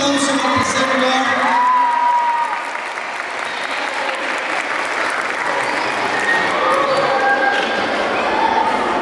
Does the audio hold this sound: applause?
yes